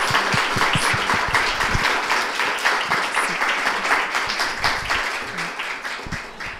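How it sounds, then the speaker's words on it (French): An audience applauds a guest at a public talk, a moderate round of clapping with audible individual claps in a steady patter that slowly fades toward the end. "on va applaudir notre invité"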